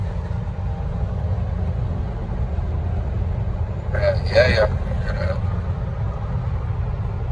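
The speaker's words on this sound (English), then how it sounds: "I got a supercharger, but y'all ain't even know that." A supercharged car cruises on a highway at 5 AM, its engine giving a steady low drone and cabin rumble throughout, with a brief rise in whine partway through, while a man murmurs briefly over it.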